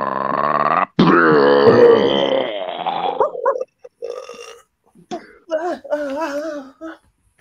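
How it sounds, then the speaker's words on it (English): A long, exaggerated cartoon burp erupts with a deep, rumbling blast, followed by short grunts and a voice speaking. "I wish I had a burp cannon."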